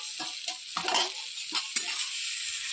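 Papaya, potato and prawns sizzle in a pan with cumin paste while a spatula stirs them, bright hiss under a series of short scraping strokes, close and without voices.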